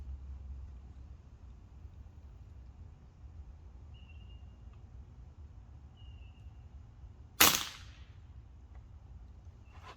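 A single sharp gunshot from a gun being test fired cracks out loudly after a long quiet stretch and trails off into a short echo.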